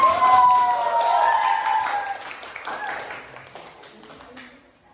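Classroom applause for a student group comes as a burst of many hands clapping over overlapping voices and chatter, then gradually thins and fades out.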